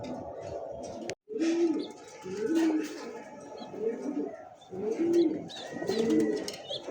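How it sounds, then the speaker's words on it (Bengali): Gola pigeons coo close by in a steady series of soft, throaty, repeated calls, with brief pauses between bursts and a faint background hum. "এটা কি কবুতর ভাই এটা? গোল্লা কবুতর ভাই।"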